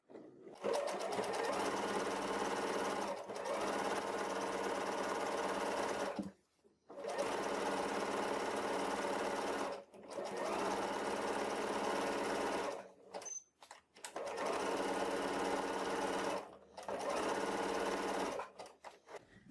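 Sewing machine running in three long, steady bursts with brief pauses between, stitching a zigzag along the very edge of fabric for a notebook cover, loud and close with no talking.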